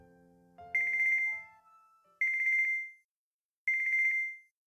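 Phone ringtone in the visual novel Kinkoi: Golden Loveriche, a clean electronic trilling tone repeating three times with short silent gaps, preceded by a brief melodic chime, clear and alone.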